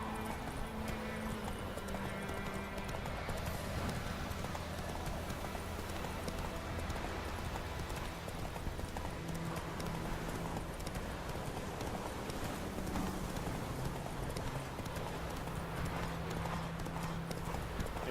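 A horse gallops in The Witcher video game, fast continuous hoofbeats drumming steadily throughout under a busy layer of game ambience and background sounds.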